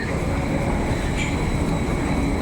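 A metro train rumbling steadily and loudly in a Kolkata-area metro setting, continuous dense roar with no pauses and no voices.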